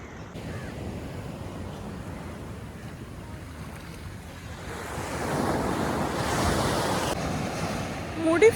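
Ocean waves wash onto a beach, a broad rushing surf roar mixed with wind buffeting the microphone, swelling louder in the second half.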